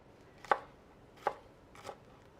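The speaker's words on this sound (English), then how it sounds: "Just chopping it up." A kitchen knife chopping food on a cutting board gives three distinct, fairly quiet strikes spaced about a second apart, with nobody speaking.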